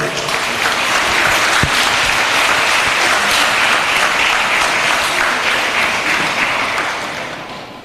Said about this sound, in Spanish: senhor Yopi Gescas, com um forte aplauso